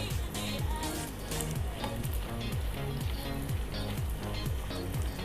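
Puri frying in hot oil, a dense, loud continuous sizzle with crackling bubbles close up, no voices.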